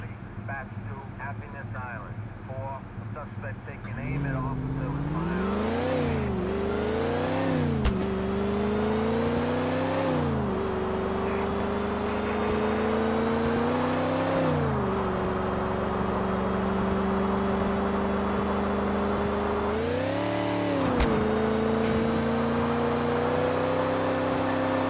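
A police Stinger car in the video game GTA The Ballad of Gay Tony gives a loud, steady engine drone that rises in pitch repeatedly through the gears as it accelerates, with short dips at each shift.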